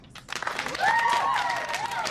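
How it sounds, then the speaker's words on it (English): An audience breaks into applause that swells quickly and holds steady for a couple of seconds, with a few whistles or cheers rising above the clapping. "And that deserves a round of applause."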